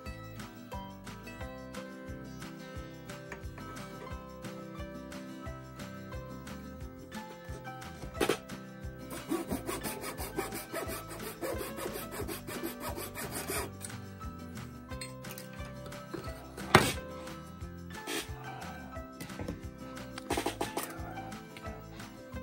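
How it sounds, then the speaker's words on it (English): Small half-timber wood pieces cut by hand in a miniature miter box for a model English settler's cottage, a quiet rasping saw stroke rubbing back and forth close up, faint against a low background. "I use my miniature miter box for this."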